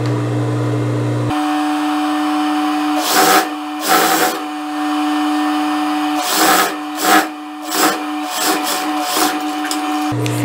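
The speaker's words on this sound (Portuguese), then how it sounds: "posiciono logo abaixo do pés-ponto rente e já venho passando a costura" A sewing machine stitches a blouse seam with an American-style armhole, running as a steady mechanical drone for most of the stretch with short louder bursts of stitching. No one speaks.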